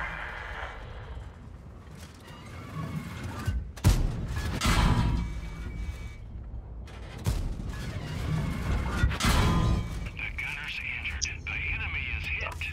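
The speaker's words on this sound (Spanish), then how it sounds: "Están moliendo a tiros ahí." Gunfire and explosive booms in World of Tanks, several loud shots and crashes at irregular intervals amid game noise, with someone talking over much of it.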